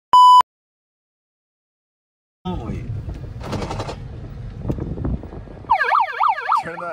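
A short electronic beep, a pause, then a person's voice mimicking a wailing siren with rising and falling whoops amid mouth noises.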